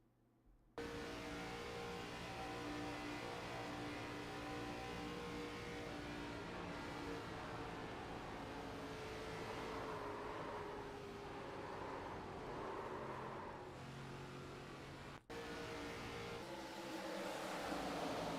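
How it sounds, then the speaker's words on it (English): A race car engine in an iRacing replay at Atlanta Motor Speedway drones loudly and continuously, with the pitch rising and falling as the throttle changes and one brief dropout near the end. "Have a listen to the engine note."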